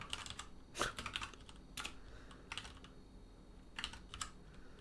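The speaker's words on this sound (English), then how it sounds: "why am I even like typing this stuff out?" Keystrokes clatter on a computer keyboard during an Arch Linux install, arriving in short irregular bursts of clicks with brief pauses between them, close and moderately quiet, with no voices.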